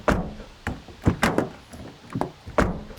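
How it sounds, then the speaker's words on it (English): A thin metal door on a new Toyota Yaris clunks open and shut several times in quick succession, each hollow thunk sharp and close, with no talking. "Have a listen to this when you open and shut the door."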